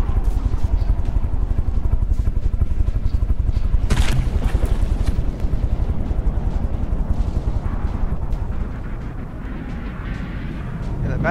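Missiles exploding against a warship in the naval combat game From The Depths, a dense, continuous barrage of booms and blasts rumbling loudly throughout, with a sharp burst near the middle before easing slightly toward the end.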